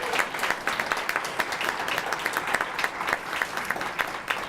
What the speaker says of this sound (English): one more big round of applause for all of our graduates who are here this evening.